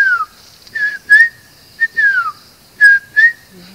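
A person whistles short, sliding two-note phrases, repeated several times with brief pauses, imitating an African cuckoo's call; clear and close, in Kakamega Forest, Kenya.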